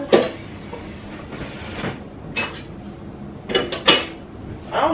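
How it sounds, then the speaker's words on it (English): Dishes being washed in a home kitchen: scattered clinks and clatters of crockery and cutlery, with a few sharp knocks among softer handling noise close by. "I got dishes to wash. Mommy got dishes to wash."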